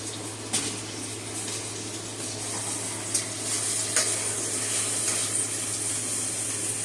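Peppers with crushed red pepper cooking down in a pan, giving a steady, close sizzle and hiss with a few small stirring clicks and no talking.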